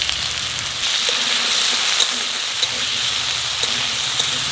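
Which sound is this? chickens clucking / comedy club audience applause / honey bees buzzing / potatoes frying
potatoes frying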